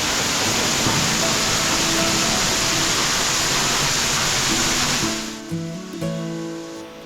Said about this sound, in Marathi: जोरदार पाऊस आहे आणि गुहेच्या आतमध्ये पण भरपूर पाणी पडत आहे